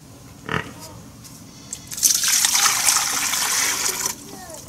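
A splash followed by a couple of seconds of pouring, sloshing water as wheat seeds tumble into a container of warm water, with quiet voices briefly in the background.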